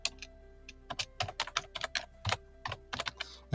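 Typing on a computer keyboard, with quick irregular keystroke clicks in short bursts, close-miked and clear with no talking.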